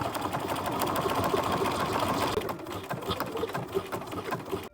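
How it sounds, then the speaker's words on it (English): Home sewing machine stitching a buttonhole on a garment, a rapid mechanical whirring with fast needle chatter, running steadily before slowing and pausing near the end. "So I have a buttonhole option on my sewing machine, so I'm just going to use that."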